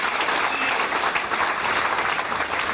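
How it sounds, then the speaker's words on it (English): A crowd at a Fijian government launch event for reusable cloth shopping bags claps steadily and densely, a sustained, even burst of applause with no voices over it. "Can we give them a big round of applause,"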